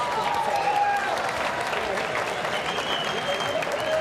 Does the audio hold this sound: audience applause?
yes